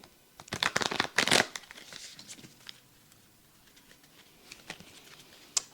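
A deck of playing cards is shuffled by hand with rapid riffling bursts, a loud flurry early on, then quieter scattered card flicks and taps, close up and without talk.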